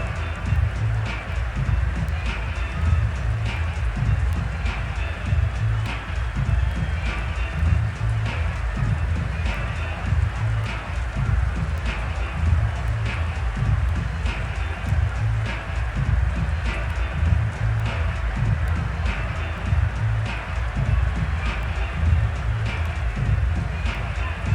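Steady rain falling in the American football video game Madden 22, a dense, even hiss of downpour that continues unbroken and fairly loud, with faint scattered drop ticks and no voices.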